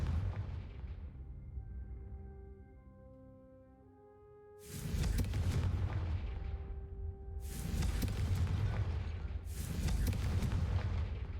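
Confringo spell blasts strike candelabras in Hogwarts Legacy: three loud, booming explosions with long rumbling tails, the first one following a stretch of orchestral music.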